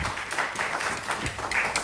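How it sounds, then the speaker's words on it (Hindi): An audience claps for the performers at the close of a stage play, a steady patter of many hands at moderate loudness, with scattered sharper claps throughout. "आप जोरदार तालियां इन फनकारों के लिए"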